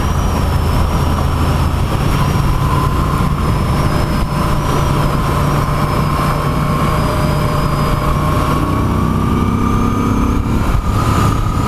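Moto Guzzi V7 III Special motorcycle engine under way, a loud continuous drone that climbs steadily through the revs, mixed with steady wind rush.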